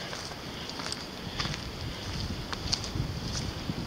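Wind buffeting a camera microphone at night beside a parked campervan, a steady rough rumble with gusty bursts throughout, fairly loud and alone with no talk.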